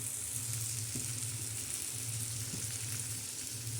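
Fenugreek leaves and tomatoes sauté in a hot pan with a steady, loud, close sizzle and occasional soft stirring scrapes, without any talk.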